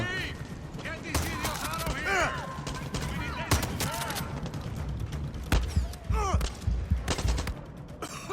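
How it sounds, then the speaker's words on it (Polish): Gunfire crackles from all directions in the Far Cry 6 video game, with scattered shots and bursts under continuous talk and busy game noise. "przecież strzelają ze wszystkich stron. Zewsząd strzelają."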